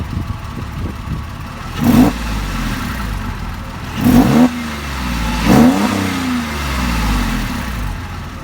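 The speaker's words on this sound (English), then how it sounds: "hopefully you can hear the sports exhaust in all its glory" A warm Porsche 911 Carrera 4S 3.6 (996) sports exhaust idles with a deep burble, then three sharp throttle blips rev up and fall back, loud and close.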